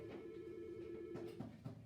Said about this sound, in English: Let me answer the phone here.